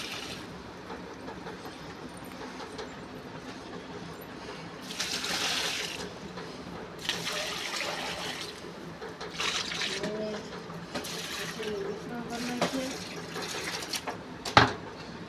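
Jaggery water is poured from a container into tubs for cows, several bursts of splashing and trickling liquid at moderate distance over a quiet background, with a sharp knock near the end.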